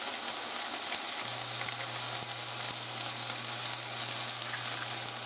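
Eggs fry in a white pan, sizzling and crackling in a continuous close hiss, with a low steady hum appearing partway through and no talk.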